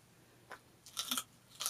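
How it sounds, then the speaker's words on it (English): A dog bites into raw celery, giving a few short, crisp crunches close by: one light snap early, then a quick cluster of louder crunches and a final crunch near the end, with quiet between. "Go crunch it. Go eat that celery."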